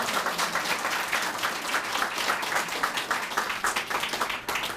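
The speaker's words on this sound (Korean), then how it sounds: "박수 부탁드립니다." Steady, dense applause from a crowd at the opening ceremony of a mayoral preliminary candidate's election office, continuous clapping holding an even level throughout without talk.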